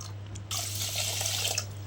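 Water streams steadily into a bowl while making sugar syrup, a continuous splashing pour close by with a low hum underneath and no talking.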